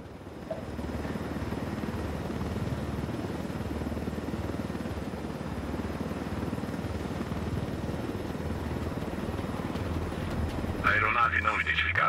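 Aircraft flying low through a canyon in Ghost Recon Wildlands, a steady rotor-like engine drone held throughout, then a short radio-style voice burst near the end, with talk over it.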